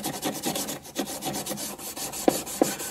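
A grungy metal plate from a Super Shuffle Alley electromechanical pinball machine being restored is scrubbed with alcohol and a Scotch-Brite pad, giving close, loud, steady rhythmic back-and-forth rasping strokes with no talking.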